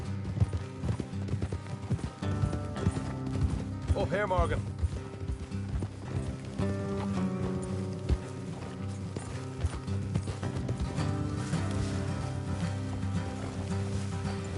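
Horses' hooves clip-clop at a steady gait along a road in the video game Red Dead Redemption 2, rhythmic and fairly close under game music, with brief spoken dialogue and a whinny partway through.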